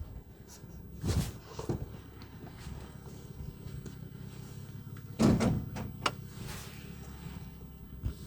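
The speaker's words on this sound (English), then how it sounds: "Let me pop the hood here for you." The hood of a BMW F30 335 is popped open: a couple of distinct clunks and latch clicks, one near the start and a louder one later, over quiet background with small handling noises in between.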